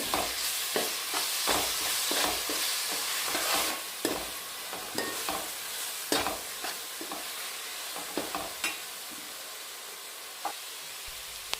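Coriander paste being stirred into cooked rice in a pan, repeated scraping and tapping strokes of a spoon with a light sizzle underneath, fairly close and steady throughout.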